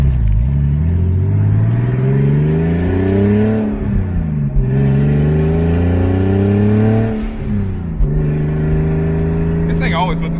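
Turbocharged BMW E36 driving and revving, its engine note climbing and falling in repeated sweeps, loud and close from inside the car over about ten seconds, with no one speaking.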